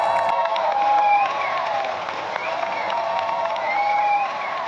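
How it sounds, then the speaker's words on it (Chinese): Studio audience at a Chinese debate show applauding and cheering as a female guest is welcomed on stage, a sustained crowd roar and clapping with a bright musical tone running underneath. "让我们掌声欢迎来自宝岛的女神"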